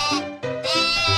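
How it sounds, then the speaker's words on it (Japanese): A sheep bleats close up in a few wavering, nasal calls, one after another with a brief pause between them. "Sheep"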